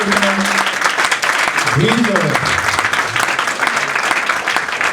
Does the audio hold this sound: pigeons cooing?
no